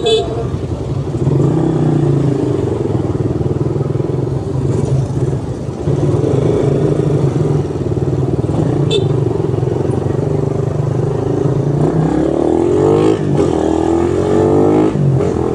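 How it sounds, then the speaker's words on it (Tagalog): Heavy road traffic in Pasig, motorcycles and cars packed together, forms a loud, continuous close rumble of idling and revving engines, with a rising engine whine near the end. "Grabe, sobrang traffic ngayon."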